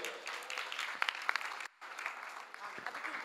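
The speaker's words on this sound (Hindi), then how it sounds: "बाजी के लिए ज़ोरदार तालियां बजाइए" An audience applauds at a youth speaking event, a steady wash of clapping with sharper individual claps standing out, briefly dropping out before resuming at similar strength.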